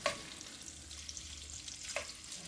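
Cabbage frying in a pan, cooking down toward brown and crispy, gives a steady soft sizzle with a couple of brief sharper scrapes or stirs rising above it.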